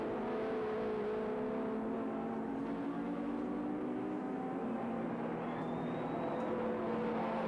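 Touring cars racing at Sandown in the 1984 ATCC, V8 engines droning steadily from a distance with layered engine tones that shift as the cars run their laps, one higher whine rising near the end.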